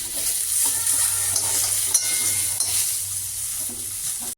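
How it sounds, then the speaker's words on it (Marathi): Onion and tomato roast in a pan for a masala egg curry, producing a steady close sizzle and frying hiss with occasional faint stirring scrapes, with no voices. "सगळ्यात पहिल्यांदा आपण कांदा खरपूस असा भाजून घेऊया"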